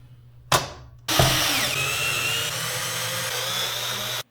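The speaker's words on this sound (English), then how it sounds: "drill the holes, and fasten them with screws" A power drill whines steadily for several seconds after a brief burst, loud and close, its pitch dipping slightly as it bites into acrylic sheet while drilling holes.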